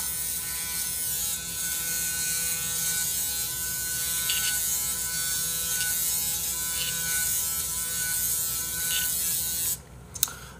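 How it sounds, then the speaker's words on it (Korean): A Braun electric shaver runs with a steady, close, high-pitched buzz for about ten seconds, then switches off with a brief click. "네, 브라운 면도기예요."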